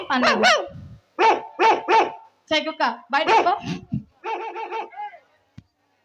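A dog barks in several short bursts mixed with people speaking nearby, the yaps fairly loud and close.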